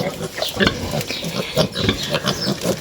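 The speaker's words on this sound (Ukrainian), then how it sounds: "Свиноматка первістка в нас привела." A first-time sow grunts on a farm in repeated close, rough grunts and snorts, loud and steady in an uneven rhythm across the whole stretch.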